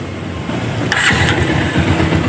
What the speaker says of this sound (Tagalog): Ayan, andar na. Isang push-start lang.